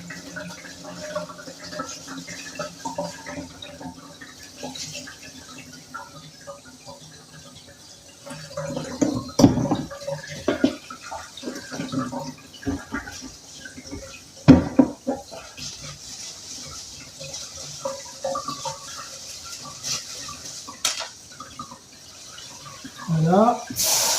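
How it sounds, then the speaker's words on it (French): Sprouted seeds are rinsed under a running kitchen tap: a steady stream of water with irregular splashes and louder bursts as the seeds are handled, plus occasional faint voice sounds. "je vais venir les rincer. Il faut bien les rincer pour enlever les impuretés."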